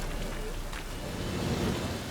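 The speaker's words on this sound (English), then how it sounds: "Looks like rain." Steady rainfall in The Witcher 3 video game hisses evenly across the whole moment, a dense wash of drops with a faint low rumble underneath.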